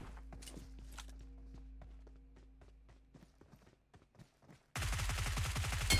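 Gunfire in a battle royale game: sharp shots and rapid bursts crackle through quieter footstep-like taps, then a dense loud volley erupts near the end; no voices.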